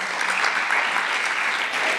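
Audience applause at a playback theatre show, a steady wash of clapping from a seated crowd, fairly close and even throughout.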